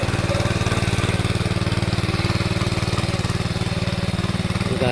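A tractor works a Konkan paddy field at Kumbhavade, Rajapur, ahead of rice sowing, its engine a close, steady, pulsing drone that runs unbroken throughout.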